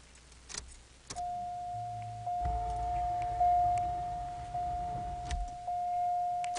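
A 1986 Buick Park Avenue fails on a cold start: key clicks and a steady warning chime, then the starter cranks for about three seconds without the engine catching, heard from inside the car.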